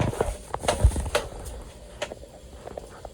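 Rain falling on a parked car during outdoor cooking, heard from inside as scattered irregular taps and patters on the roof, soft and close over a faint hiss.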